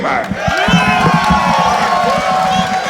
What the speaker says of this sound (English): Great sound of applause for Tommy